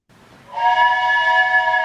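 A voice imitates a train whistle: one sustained, rising, whistle-like tone that holds steady for over a second, close by and fairly loud.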